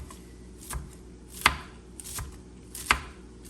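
A knife strikes a cutting board in sparse, sharp chops with long pauses between them while a potato is cut for taco bowls, close and alone against a faint kitchen hum.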